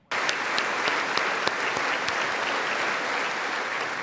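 A crowd's thunderous applause bursts in abruptly and carries on as a dense, even roar of clapping, with a few sharper individual claps poking through.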